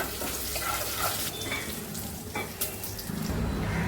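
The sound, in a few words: whole spices and bay leaf frying in oil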